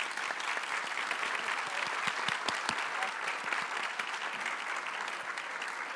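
Dense, steady applause from a conference audience sending off panelists at the close of a panel discussion, even and continuous, heard fairly faint and distant.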